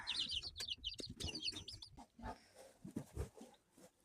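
Hens clucking and chirping in short bursts, with one higher sharper call early on, close by, alongside soft rustling and farmyard movement.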